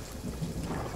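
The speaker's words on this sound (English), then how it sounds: "Calypso's lightning cracked the spire." A deep, rumbling thunder crack from lightning striking a spire in a video game battle, a brief loud roll with no talk over it.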